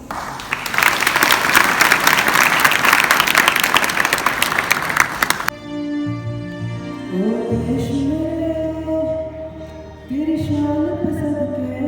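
Audience applause at an Independence Day college student programme, dense and loud for about five seconds, then stopping abruptly as a melodic performance with singing begins.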